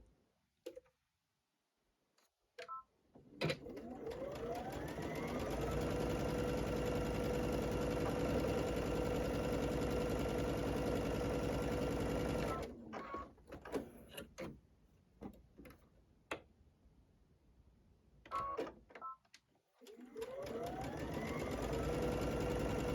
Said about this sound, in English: now we'll take that to the machine and stitch on either side of that